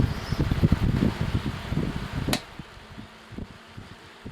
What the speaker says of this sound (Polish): wiatrak działa, można sobie po prostu załączyć. Tu macie prędkość pierwszą.